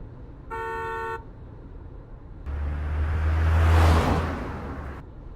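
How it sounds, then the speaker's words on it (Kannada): In an audio car-driving game, a short steady horn toot sounds first. After a pause, a vehicle rushes past an open car window, its engine and wind noise swelling loudly, then cutting off. "ಪಕ್ಕದಲ್ಲಿ ಈ ವಿಂಡೋ ತೆಗೆದು ಯಾವ್ದಾದ್ರು ಗಾಡಿ ಪಾಸ್ ಆಗುತ್ತೆ ನೋಡಿ, ಆ ಥರ ಸೌಂಡು ಬರುತ್ತೆ"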